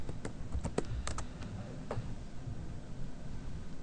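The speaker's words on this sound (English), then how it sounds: "by typing in GnuRadio Companion in the command line, I was able to launch GnuRadio Companion" A few sharp keyboard clicks from typing at a command line on an Ubuntu computer, scattered in a short irregular run over a steady background hiss.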